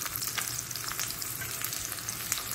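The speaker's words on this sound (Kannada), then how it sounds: "ಈರುಳ್ಳಿ ಒಳ್ಳೆ ಚೆನ್ನಾದ ಗೋಲ್ಡನ್ ಕಲರ್ ಬರುವವರೆಗೆ ಇದನ್ನು ನಾನು ಹುರಿತಾ ಇದ್ದೇನೆ." Chopped onion frying in a few spoonfuls of hot oil for a Mangalorean silver fish masala, a steady close sizzle with crackling and occasional stirring scrapes, no talking.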